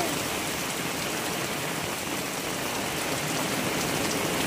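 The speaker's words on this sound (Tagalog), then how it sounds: "Lakas na ng ulan" Heavy rain from Typhoon Emong pours down steadily, a dense, constant roar of drops drumming on surfaces with no letup and no voices.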